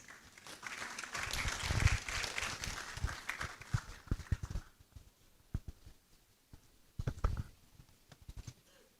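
An audience at a university white coat ceremony gives a burst of applause, loud and dense at first, then thinning into scattered claps that pick up briefly again toward the end.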